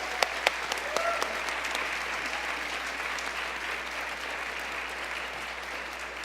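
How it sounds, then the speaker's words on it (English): A large audience applauds steadily in a hall, a dense and even clatter of many hands clapping that stays at one level throughout, with a few sharper claps standing out near the beginning. "Can everybody give her a round of applause here?"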